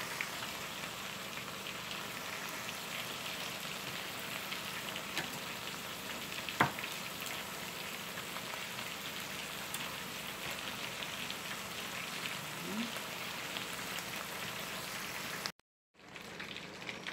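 Chicken fries in a pan with red and green tomatoes and butter, giving off a steady, close sizzle that carries on without a break and has no talking over it.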